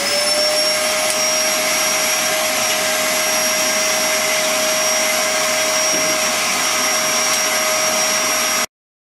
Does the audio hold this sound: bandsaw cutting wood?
yes